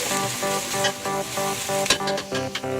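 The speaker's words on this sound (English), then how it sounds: "I poured the diced tomato into the mix and stir just like the rest of them" Diced tomato sizzles and crackles in a hot pan of vegetable mix, with a steady close frying hiss and light rhythmic scraping as it is stirred. Background music plays along.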